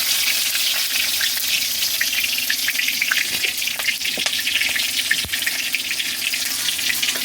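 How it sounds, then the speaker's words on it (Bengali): Whole garam masala and bay leaves sizzle in hot oil over a wood-fired stove, a loud steady crackling hiss close by with scattered sharp pops and spits and no talking. "তেলটা হয়ে গেছে গোটা গরম মশলা দিয়ে দেব দিয়ে দেবো গোটা তেজপাতা"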